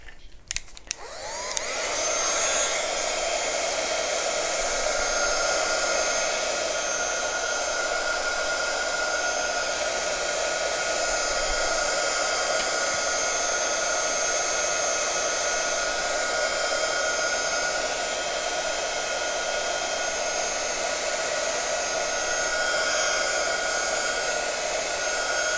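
A heat tool blows a loud, steady whirring rush of air while drying ink on a stamped card, starting after a few clicks and running without a break for about twenty-five seconds.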